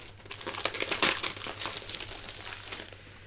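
Sheets of die-cut paper crinkle and rustle as they are handled up close, a dense run of crackling for about three seconds that fades at the end, with no talking.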